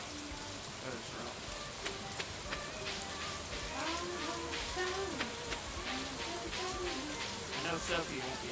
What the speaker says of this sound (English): I know Sophie won't be off because it's raining